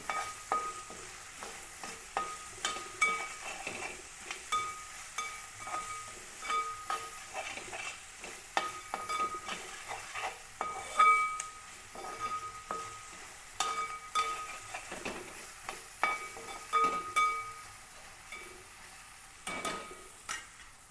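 Ginger, garlic and onion frying in a pan for beef fry, stirred with repeated scraping strokes in an irregular rhythm over a low, steady sizzle, close by with no talking.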